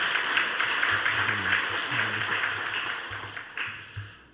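Church congregation applauding during a Sunday service, dense sustained clapping that slowly tapers off, with faint voices or a low hum underneath.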